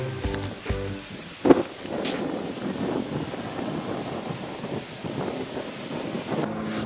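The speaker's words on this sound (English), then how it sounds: "And now the wind picks up." Wind buffets a microphone outdoors in gusty low rumbles, with a few bumps and handling knocks, loud and close, no speech.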